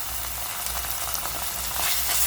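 Green chillies fry in ginger garlic paste, giving a steady, close, bright sizzle with faint stirring scrapes throughout.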